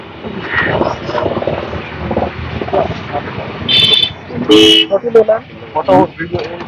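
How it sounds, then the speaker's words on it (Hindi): A vehicle approaching head-on on a Ladakh road sounds a few short, loud honks in the latter half, while people talk close by throughout. "सामने से गाड़ी आ रही है।"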